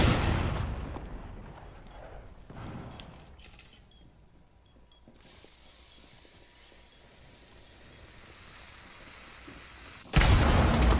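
A frag grenade goes off in the Rainbow Six Siege video game, a loud blast that decays into a long rumbling tail and quiet ambience before another abrupt burst at the end.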